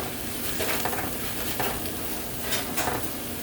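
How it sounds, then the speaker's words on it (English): Mixed vegetables, drained of their liquid, sauté in olive oil with a steady sizzle and intermittent scraping and clinks of a utensil against the pan as everything is stirred to coat it. "trying to get all the oil on all of the vegetables"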